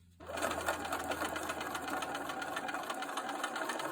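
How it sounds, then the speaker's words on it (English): A sewing machine stitches a quilt seam on a star sampler block, a fast, even mechanical whir-and-tap that runs steadily and close for several seconds. "I re-sewed that seam, and now I'm ready to stitch."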